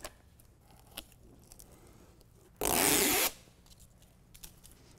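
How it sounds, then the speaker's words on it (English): Adhesive backing peeled off a BedRug molded carpet truck bed liner for a 2017 Honda Ridgeline, one sharp ripping tear lasting under a second, set among quiet handling rustles. "go ahead and peel away the adhesive protectant"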